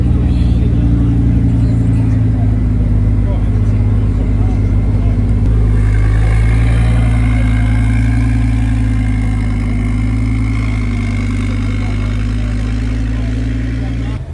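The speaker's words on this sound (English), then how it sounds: "We've got a KTM Crossbow GT2, I believe, rolling in here." A KTM X-Bow GT2 race car rolls in at a hypercar meet, its engine a loud, deep, steady drone that climbs slightly in pitch partway through as it moves closer, with crowd noise around it.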